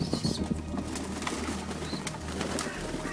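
Tame young racing pigeons at a backyard loft coo softly and flap their wings close by, with low throaty calls and brief bursts of wingbeats over quiet background noise.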